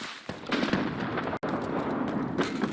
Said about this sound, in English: Or at least Blue hears the grenades, no doubt